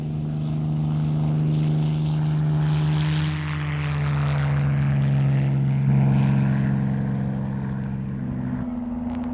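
A Supermarine S6B racing seaplane, its engine boosted to 2,600 horsepower, drones loudly past with a strong steady engine tone that shifts pitch as it passes, close and alone.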